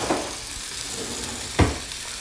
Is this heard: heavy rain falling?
no